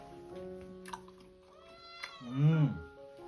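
A cat meows once, a short rising-falling call near the end, close by in a kitchen where Konkan-style crispy mandeli fish fry and fish curry are cooking, with faint background sounds before it.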